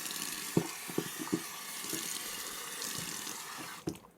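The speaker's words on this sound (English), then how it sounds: "let me rinse." Water from a tap runs steadily into a sink while a razor is rinsed, with a few knocks of the razor against the basin under the continuous flow.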